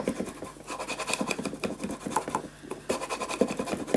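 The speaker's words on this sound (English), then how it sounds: "and push this inside, and then we just burnish it down" Paper being burnished down by hand on a fragile scrapbook storage tower gives soft, close scratchy rubbing strokes in quick, uneven repeated passes.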